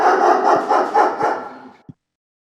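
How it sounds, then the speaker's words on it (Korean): A Jindo dog lets out a single drawn-out, loud, close bark that fades into a whine, then a faint click, heard alone without talk. "백구가 다시 짖기 시작했습니다"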